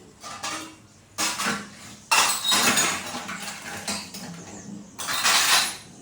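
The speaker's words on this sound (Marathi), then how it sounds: "आता म्हणलं अगोदर भांडी धुवून घेऊयात" Dishes, pots, cutlery and a milk kettle clatter and clink while being washed at home, with bursts of scraping and knocking metal and rushing water coming and going in waves, close and fairly loud.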